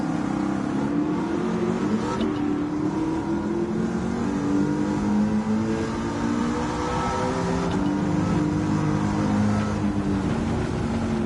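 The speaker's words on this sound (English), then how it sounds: "I already like the sound of the engine more." A De Tomaso Pantera engine in Gran Turismo 7 roars continuously, revving and shifting pitch as the car accelerates, steady and loud throughout with no talking.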